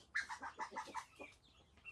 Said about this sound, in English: I feed the ducks and chickens as long as the vines remain in the sulfurous smoke.